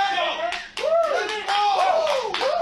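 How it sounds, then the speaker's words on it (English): Spectators at a slap-fighting contest clap and shout in bursts, sharp rhythmic hand claps mixed with excited calls, with a commentator talking over the noise. "The crowd telling him to dig deep."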